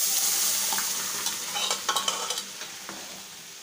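Boiled dal and spinach go into a hot pan over a lowered flame and are stirred, giving a soft steady sizzle with a cluster of spoon scrapes and clinks in the middle.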